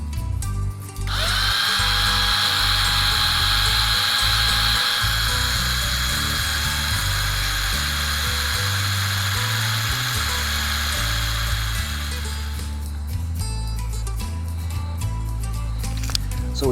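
A power drill whines steadily and close up for about eleven seconds as it bores through a wooden part of a 1:200 scale HMS Victory ship model, then spins down into quieter handling noise.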